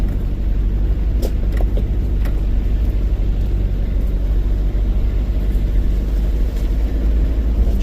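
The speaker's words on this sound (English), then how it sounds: "Just driving down this nice track." A car with a high-low transfer box drives along a dirt track, giving a steady, close rumble of engine and tyres with a few faint knocks and rattles.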